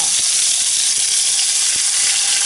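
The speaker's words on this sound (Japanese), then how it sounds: "大量の玉ねぎを炒めて飴色にします" A large batch of red onions sizzles and steams in a pan over high heat as they are fried down for curry, a steady, dense hiss that runs loud and unbroken throughout, with no talking.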